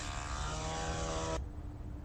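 A Fokker propeller plane taking off drones loudly with a steady buzzing engine tone, then the sound cuts abruptly to a lower, duller rumble.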